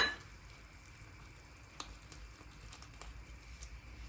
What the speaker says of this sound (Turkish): Topak olmaması için yine ve dibi tutmaması için sürekli karıştıracağız.